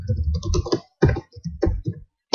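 Typing on a computer keyboard, with short clustered runs of keystrokes separated by brief pauses and a final sharp tap, close and fairly clear.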